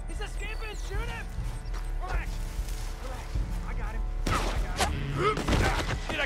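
Gunfire from Red Dead Redemption 2 arrives as a few sharp, loud cracks bunched in the latter half, set amid steady game speech and background clatter.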